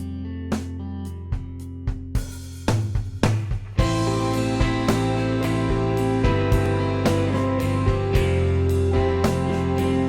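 A programmed drum section built from an Ableton studio drum pack, starting with sparse single hits and a quick fill, then settling into a steady, busy groove with cymbals washing over kick and snare, close and without talk.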